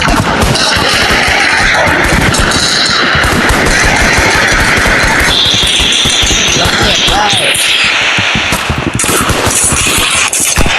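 Loud, nonstop video game gunfire, with rapid automatic bursts and explosions layered densely together for the whole stretch.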